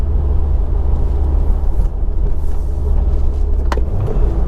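A 2020 Subaru WRX with a manual gearbox downshifting while driving: a loud steady low engine and road rumble from inside the cabin, with a brief change in engine note partway through and a short click near the end.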